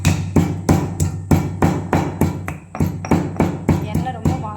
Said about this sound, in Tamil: ஒரு 10 பீஸ் ஏலக்காய் வந்து நம்ம உரல் நசுக்கி போட்டுடலாம்